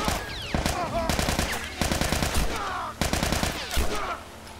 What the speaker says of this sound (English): I just pulled the trigger